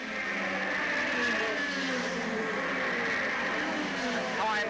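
Hot rod race cars compete at Ipswich in 1984, their engines roaring continuously as they pass, mixed with the sound of an announcer commenting on the race.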